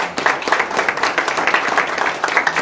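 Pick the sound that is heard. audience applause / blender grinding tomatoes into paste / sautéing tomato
audience applause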